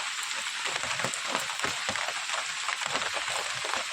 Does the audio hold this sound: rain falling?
yes